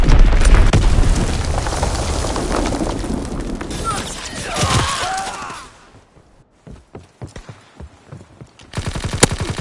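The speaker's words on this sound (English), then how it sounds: "Enemy bomb incoming. Get to cover." An enemy bomb strike in the video game Call of Duty: several seconds of loud, dense blasts and crackling gunfire, then scattered sharp pops, ending on a final hard hit.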